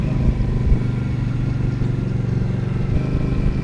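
An Indian Scout 69 motorcycle accelerates on the road, with a steady, close engine drone and rumble under wind noise while it picks up speed.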